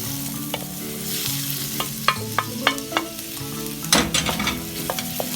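Garlic and ginger sautéing in a pan, a continuous sizzle broken by sharp stirring clicks and scrapes of a utensil, close and without speech.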